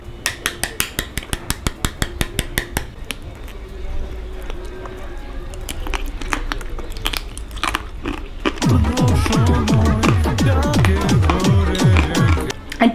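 Crunchy bites into sugar-coated tanghulu fruit with a brittle candy shell, strawberry among them: a run of sharp close cracks early on, then heavier repeated crunching and chewing near the microphone.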